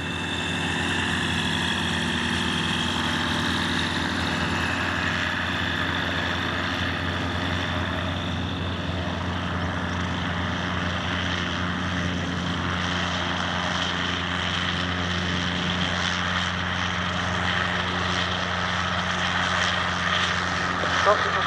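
A Cessna 172G light aircraft's propeller engine runs at a steady low idle while taxiing back to parking at an airfield, a continuous close drone with radio voice chatter over it.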